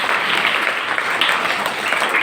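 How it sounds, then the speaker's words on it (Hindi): Audience applause at a Mahabharata quiz event fills the space as a dense, steady burst of clapping from a crowd, close and loud for a couple of seconds. "उनके लिए तालियां।"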